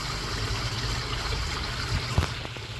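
Waterfall pouring into a koi pond, a steady close splashing and rushing of water with a few brief knocks and thumps near the end.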